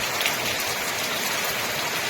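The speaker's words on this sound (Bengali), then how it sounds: "বৃষ্টিপাত চলছে" A thick, unbroken wash of heavy cyclonic rain in the Sundarbans drumming on surfaces nearby, loud and constant throughout.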